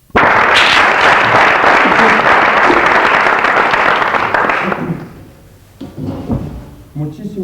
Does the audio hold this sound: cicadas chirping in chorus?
no